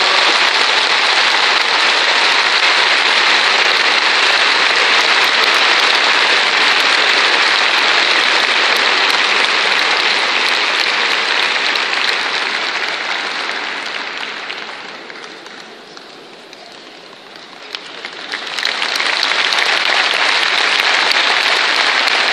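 Loud, dense applause from an award ceremony audience greeting the Enčo Keryazov Foundation arts prize winner, sustained clapping that dips briefly and then swells back to full strength.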